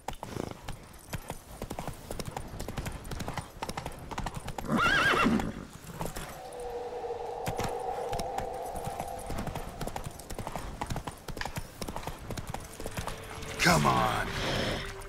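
Horse hooves galloping in The Witcher 3 video game, a close rhythmic clip-clop running throughout with a couple of whinnies and a game voice speaking briefly.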